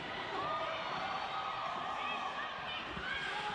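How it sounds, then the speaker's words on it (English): Roller derby crowd at an Arizona versus Rat City bout during Monsoon Madness 2019, heard as a steady, dense murmur of many voices calling out across an indoor venue, mixed with faint scattered shouts. "Crowd calling out for a cut track penalty."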